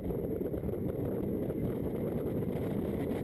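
Caterham race cars power along the straight at a racing circuit, a dense, steady engine roar with wind rush, loud and unbroken throughout.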